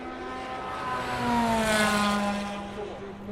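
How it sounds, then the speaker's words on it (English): A race car on track, among Audi, Ferrari, Porsche 911 and Rebellion Racing Toyota Lola entries, passes by with a high engine whine that swells to a peak and fades away, with no voices. "An Audi, followed by a Ferrari, followed by a 911, followed by another one of the Rebellion Racing Toyota Lolas."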